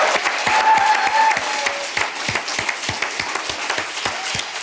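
A keynote audience applauds customer award winners, a broad wash of many hands clapping that holds steady, then thins into scattered distinct claps toward the end.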